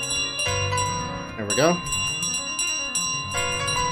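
A bell rings in Untitled Goose Game with repeated bright, sustained metallic tones, mixed with game music, and someone talks over it.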